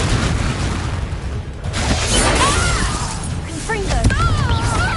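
A Confringo fire-blast spell from Hogwarts Legacy explodes with a sharp crackling burst, while a voice shouts over the game sounds and whistling magical effects.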